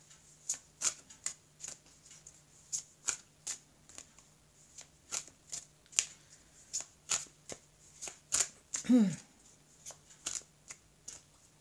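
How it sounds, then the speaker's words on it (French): A deck of tarot cards is shuffled by hand in a quiet room, a long series of brisk, crisp riffling bursts at a fairly regular pace, with one longer, rougher flurry near the end and no talking. "Je vais donc couper le jeu et je vais recouvrir les cartes."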